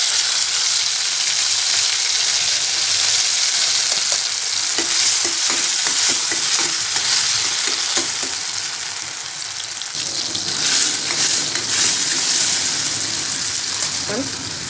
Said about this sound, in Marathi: तेल तापलं की घालायचं टोमॅटो अगोदर